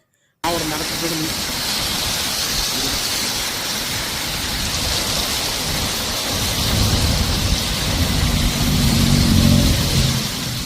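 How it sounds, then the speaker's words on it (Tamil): Moderate rain falls steadily over suburbs of Coimbatore, a dense continuous hiss that swells slightly louder toward the end, with a low rumble underneath. "புறநகர் பகுதிகளில் கடந்த அரை மணி நேரத்திற்கும் மேலாக மிதமான மழை பெய்து வருவதால் குளிர்ச்சியான சூழல் நிலவி வருகிறது"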